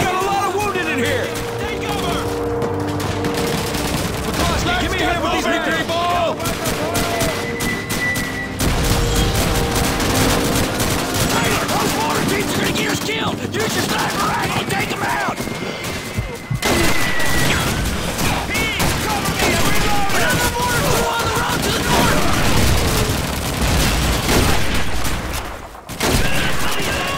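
Dense World War II battle noise from Call of Duty 2 during a German counterattack: sustained rifle and machine-gun fire with booming explosions, loud and continuous, with soldiers shouting throughout.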